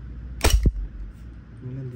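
A single sharp, loud crack from a gas blowback airsoft rifle fires close by, with a quick hissing tail, followed by a low hum and a brief voice.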